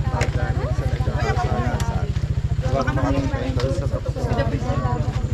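Small motor engine idling after being started, a fast, regular low putter that runs throughout, with people talking loudly over it close by.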